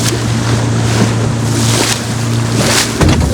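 A fishing boat heads out to sea from a jetty and slaps over the waves with loud, continuous engine drone, rushing water and wind, and a jolt near the end.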